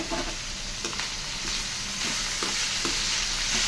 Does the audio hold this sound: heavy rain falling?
no